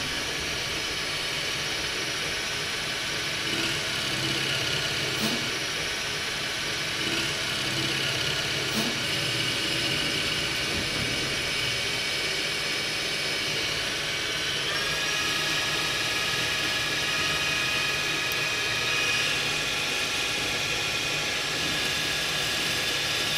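A metal lathe runs continuously while facing and boring a small custom washer, giving a steady mechanical hum with a cutting whine that shifts tone about two-thirds of the way through.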